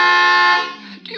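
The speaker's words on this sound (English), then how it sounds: "What are you honking now for?" Car horn blaring in one loud, sustained honk that fades out after about half a second, followed by a brief trailing sound, within a radio drama scene on a winding road.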